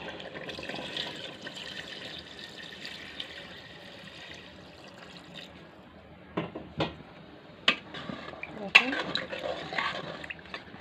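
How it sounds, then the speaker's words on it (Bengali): Water poured into a pot of browned beef curry, a steady gurgling splash for several seconds, followed by a few sharp metallic clanks of utensils against the pot. "পানি দিয়ে দিব।"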